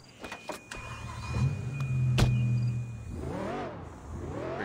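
A car engine in Sleeping Dogs idles low and steady, then revs up in two rising and falling swells near the end, with a few clicks and thuds at the start.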